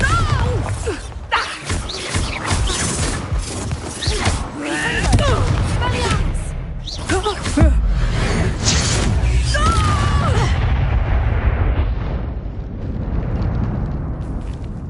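A Bombarda spell explodes in the Hogwarts Legacy video game, a booming blast set among dense combat effects, music and rumbling, with voices shouting and talking throughout.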